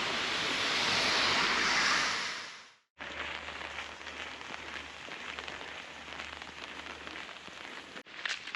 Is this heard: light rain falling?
yes